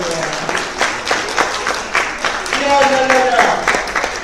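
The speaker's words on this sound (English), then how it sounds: "Why don't we give her a round of applause?" Parents in an audience at a youth leadership event applaud in a round of clapping, with loud dense claps and voices mixed in, a tone or voice rising over the middle.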